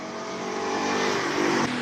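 A BMW E46 M3 race car with a six-cylinder engine and rear-wheel drive holds a steady, loud, buzzing drone at a hillclimb event, rising slightly in pitch before cutting off near the end.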